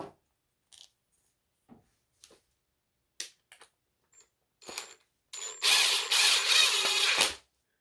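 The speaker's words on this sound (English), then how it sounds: "so I'm going to need to countersink them into each block" A drill fitted with a countersink bit from a pocket hole jig kit bores screw holes into wooden blocks while framing a school bus ceiling. Scattered clicks and handling knocks lead into a loud, steady two-second whirring burst that then stops.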